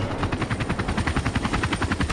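A helicopter in a Skibidi animated episode gives a steady, loud, rhythmic rotor chop with fast, even pulses throughout and no voices.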